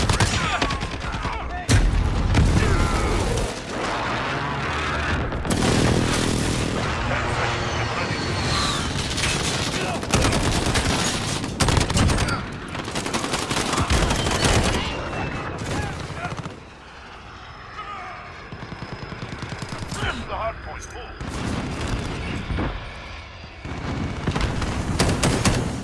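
A precision airstrike in the video game Rust: heavy explosions and rapid gunfire crash in repeated loud bursts, with aircraft drone and radio-style voices mixed in throughout.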